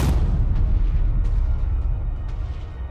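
A loud, deep video game explosion booms at the start, then a heavy low rumble rolls on for a few seconds with faint crackling bursts in it.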